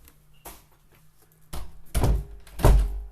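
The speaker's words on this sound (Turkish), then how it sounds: "Kapattım kapıyı tamamdır." Door closing in the Roblox game Supernatural Simulator, several heavy thunks with a louder final pair of low, close impacts and no talking.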